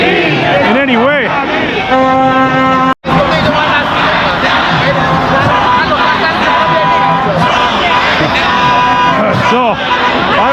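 Pro-Reza Pahlavi Iranian protest crowd outside the US consulate in Toronto, a loud, continuous hubbub of many voices with shouts and rising chants, close by, briefly cut out for a moment.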